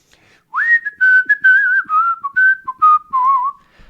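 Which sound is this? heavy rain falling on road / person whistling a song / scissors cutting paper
person whistling a song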